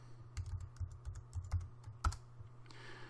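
Quick, irregular clicks of typing on a computer keyboard, close but quiet, with a few sharper keystrokes and a low steady hum underneath.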